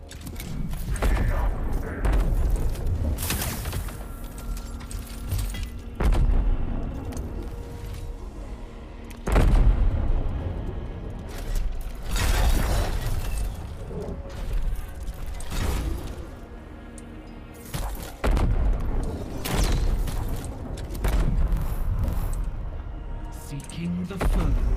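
Battle in the video game Mechanicus 2 brings repeated heavy shots and booming explosions in spaced bursts, with mechanical clanks between them over a steady low background and occasional talk.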